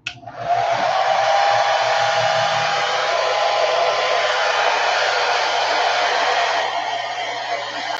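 A hair dryer blows steadily to quick-dry ink on Yupo paper, starting abruptly and holding a loud, even rushing whoosh for several seconds, close to the listener and heard alone without talk.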